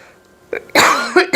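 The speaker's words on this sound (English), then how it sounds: "I got the coughs today" A person coughs several times in quick, harsh bursts, close and fairly loud, after a quiet pause.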